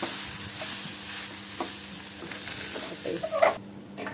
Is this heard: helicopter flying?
no